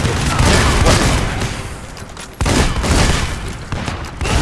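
Loud, heavy blasts from a coach gun in the multiplayer shooter Lead and Gold, two booming shots with rumbling tails separated by a brief lull, set among clattering game noise.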